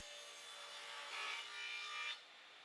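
Saw cutting a scrap of Baltic birch plywood to rough width, a steady hissing buzz that swells briefly and stops abruptly, close and fairly quiet.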